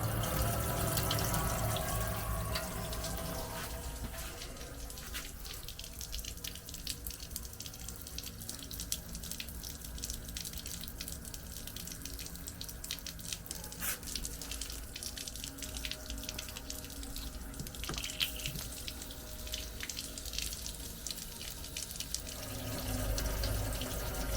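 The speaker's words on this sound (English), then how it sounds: "run the taps, try and get this water flushed through." Water runs steadily from the taps of a Hero camper van while its water tank is flushed through, a continuous hissing splash into a sink that stays fairly loud throughout, with no talking.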